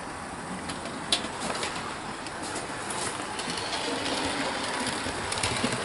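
Hornby Maunsell S15 model locomotive running smoothly on a model railway track, a steady low rolling hum with light clicks over rail joints throughout.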